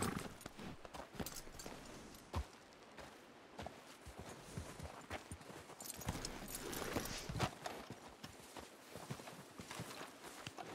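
Hooves clop steadily at a walking pace in the video game Red Dead Redemption 2, with scattered knocks and rustles around them and no one speaking.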